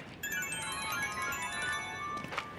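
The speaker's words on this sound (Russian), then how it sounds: "Телефон." A telephone ringtone plays steadily as a continuous electronic melody at moderate volume, heard alone without talk.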